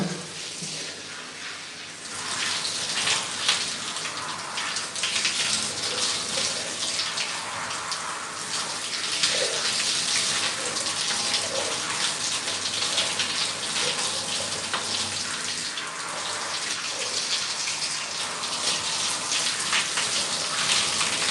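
Steady running water pours and splashes under a tap, a continuous bright hiss that holds nearly unbroken for about twenty seconds, with no voices.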